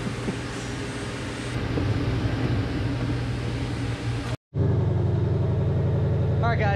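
A 2020 Shelby GT500 fitted with a JLT intake holds a loud, steady engine drone with a strong harmonic whine, then cuts out briefly and returns louder and rougher.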